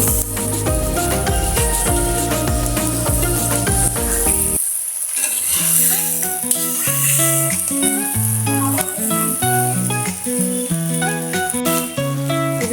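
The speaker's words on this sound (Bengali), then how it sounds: "মাছটা দিয়ে দিলাম, দেওয়ার পরে একটু কষে নেব" Fish sizzling in hot oil in a pan while being stirred through spices, a steady crackling hiss under a bed of music.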